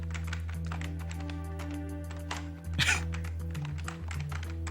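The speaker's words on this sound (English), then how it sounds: "This is him typing." Computer keyboard typing clicks along steadily under a constant low electronic hum, with a brief louder clatter of keys midway and no talking.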